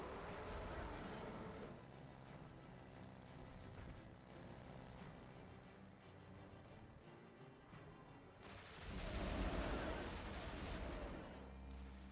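Gunfire in Peter Jackson's King Kong video game, a continuous rumbling barrage of shots with a heavier burst near the end, fairly faint and blended with game noise.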